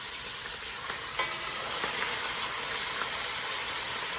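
Steady loud sizzling of ground meat, sausage and onions browning in a hot pan, with a few soft clinks of a spatula stirring through it.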